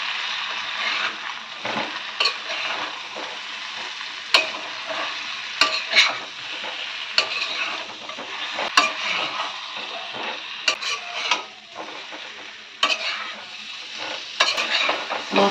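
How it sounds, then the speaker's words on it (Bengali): Spices being stir-fried in a pan for a curry of aar fish and yam, with a steady close sizzle and frying hiss broken by repeated sharp scrapes and taps of a spatula stirring, no talk. "মশলা কষানো হয়ে গেছে"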